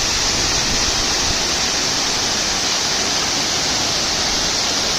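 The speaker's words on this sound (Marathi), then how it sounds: "बघू शकता किती उंचावरून पाणी पडतं आहे" Savatkada waterfall near Rajapur in Konkan pours down from a great height, a dense, unbroken roar of falling water that stays loud and even throughout, with no voices.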